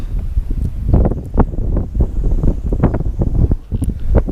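Strong wind buffets the microphone out on the water during bass fishing, loud gusty rumbling in uneven bursts that covers the whole stretch.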